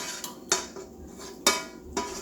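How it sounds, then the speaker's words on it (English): Cooked noodles being scooped into a pot, with a few sharp clinks of a utensil against the pot and softer scraping between them, spaced irregularly and close by. "I'm just scooping everything in here"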